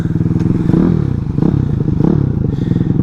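A Grom clone motorcycle with a 212cc engine and loop exhaust chugs close by with a rapid, throbbing exhaust pulse, rising in a few short revs over about three seconds, with no talk over it.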